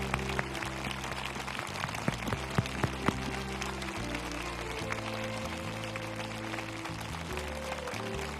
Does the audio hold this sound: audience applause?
yes